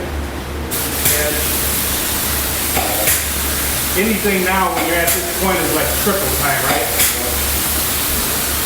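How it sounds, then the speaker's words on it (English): A spray gun steadily hisses as it applies toner to door faces in a finishing shop, a continuous close broadband spray noise running beneath someone speaking. "And then just spray these down this way."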